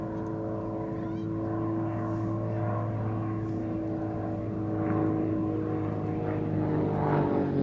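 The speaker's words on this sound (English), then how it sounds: "The Tutor is constructed of a carbon composite material and has a 180 horsepower Lycoming piston engine." A Grob Tutor with a 180 hp Lycoming piston engine drones steadily overhead at an air festival, its propeller hum even and continuous, growing slightly louder toward the end, alone without talk.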